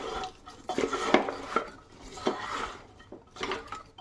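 Spoon stirring spiced buffalo tail pieces with turmeric, salt and curry leaves in a metal pot, a series of scraping clinks and knocks at an uneven rhythm, close and fairly quiet.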